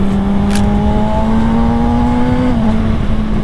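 A 2022 Honda CBR 600RR 600 cc sport motorcycle on a test ride sends out a loud, close, steady engine drone that climbs slowly in pitch before easing back slightly, with no talking.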